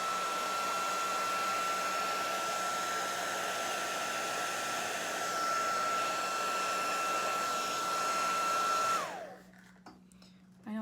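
Blow dryer drying watercolor paint on a holiday card: a steady, close, loud airy whoosh with a faint tonal whine, running continuously before switching off near the end.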